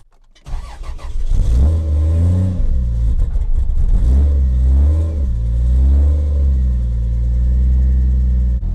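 A turbocharged Jeep with a big turbo and Supra engine cranks and fires, then rises and falls through several loud revs before settling into a steady, rumbling run, close up with no talking.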